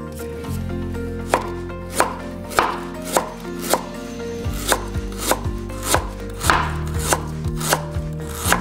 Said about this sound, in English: Now I have to slice the ginger.